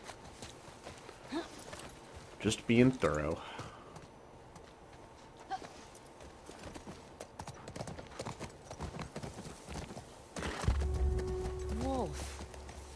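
Horse hooves clip-clop at a steady walking pace in The Last of Us Part II video game, moderately close, with a louder passage late on, while a person talks briefly over the sound.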